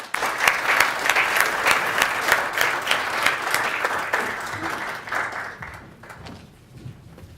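An audience at a keynote summit applauds to welcome a speaker, steady full-room clapping for about five seconds that then thins and fades out.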